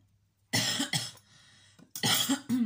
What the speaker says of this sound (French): Et oui, je tousse toujours.